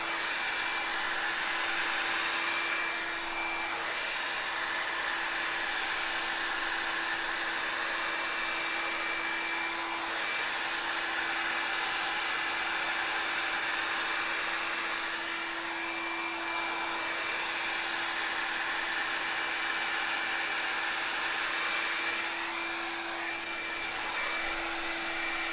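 A handheld hair dryer blows steadily and loudly while hair is blow-dried straight with volume, a continuous whooshing roar with a fixed motor whine and slight shifts in airflow, no voices.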